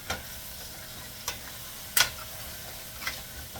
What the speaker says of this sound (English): Stir it all up with that honey getting into it.